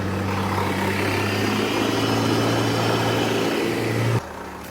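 A 1946 Chevrolet truck engine running in fourth gear, a steady droning hum with a low rumble, loud and close, holding even before cutting off abruptly near the end, no talk.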